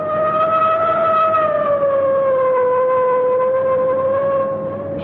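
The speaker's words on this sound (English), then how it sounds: "I guess it's time to sound the siren." A police siren in a classic crime radio drama wails continuously and loudly, a steady tone that slowly dips and rises in pitch, sounding alone with no talk.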